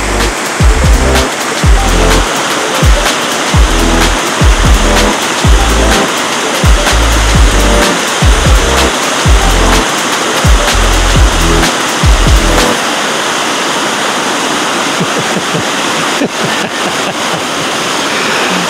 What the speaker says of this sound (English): It's a lovely little waterfall, isn't it?